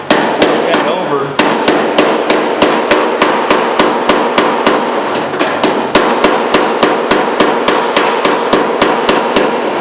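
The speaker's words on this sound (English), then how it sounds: "I'll just take my hammer now, go ahead and push that over." Rapid, regular hammer strikes on welded metal, loud and close, ringing sharply at a steady rhythm of several blows per second.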